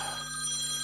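A phone rings with an incoming call from Mum: a short, steady electronic ring lasting under a second, fairly clear and with no voices over it.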